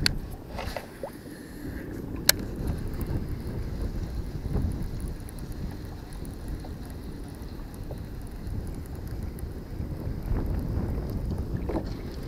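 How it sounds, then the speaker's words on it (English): Strong wind gusting over a farm pond during a fishing trip, a steady low rumble and buffeting on the microphone with faint water lapping and a few small knocks, close and continuous. "And this wind today is gonna be brutal."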